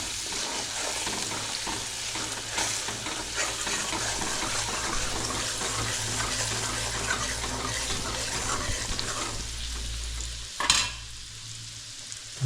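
Black masala spices sizzle and fry in a pan while being stirred for mutton curry, a steady crackling hiss with scraping, ending in a short clatter.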